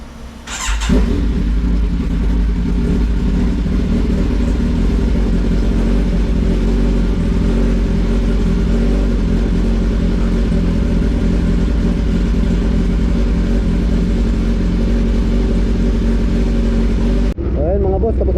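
A Kawasaki Z1000 R motorcycle engine idles steadily while warming up, a loud, close, continuous low rumble that runs unbroken for about seventeen seconds before cutting off abruptly near the end.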